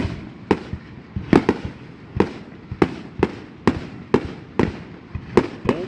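Fireworks burst over and over at the 2019 Union City, Tennessee display, with sharp booms and crackles arriving every half second or so against a steady rumble of smaller pops.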